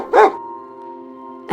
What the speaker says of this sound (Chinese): 而狗狗听到我开门后就开始叫。